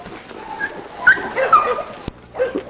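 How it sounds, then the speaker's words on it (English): Dog whimpering and giving short yips at close range in an outdoor yard, soft intermittent vocal sounds with a brief sharp click near the end, no talk. "And anyway, this is the dog we call Mabel."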